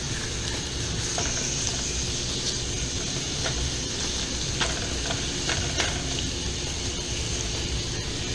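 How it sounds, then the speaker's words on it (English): Pear slices cooking in a pan over medium heat give a steady, close sizzle with faint scraping and light clicks scattered throughout, no voices over it. "we're going to add the pears and cook them for about 3 to 5 minutes over medium heat, so that they start to get a little bit tender, a little bit brown"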